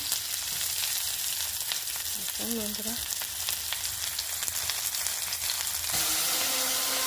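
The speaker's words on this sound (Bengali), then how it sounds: "কড়াই বসিয়ে দিলাম, পেঁয়াজ মরিচ দিয়ে দিলাম" Onions and green chilies fry in a hot wok with a steady, close crackling sizzle throughout, while a voice speaks briefly over it.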